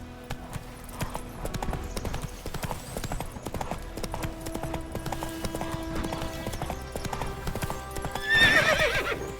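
Roach the horse gallops in The Witcher 3, hooves pounding in a steady rhythmic clip-clop at moderate volume, with a brief whinny-like burst near the end.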